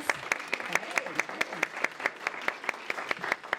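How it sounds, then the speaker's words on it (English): A handful of audience members clap at a Women in Business awards ceremony, honoring the nominees with crisp, distinct, fairly steady claps that stay close and continue for several seconds over a faint murmur of voices. "Let's give them all a round of applause."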